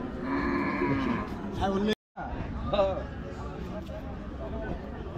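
A cow lets out a long, loud moo close by at the busy Hazratpur cattle market, followed by people talking and haggling amid the crowd.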